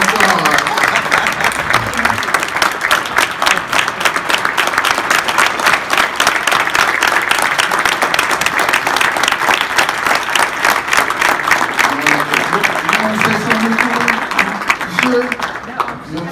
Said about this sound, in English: I want y'all to give her a standing applause.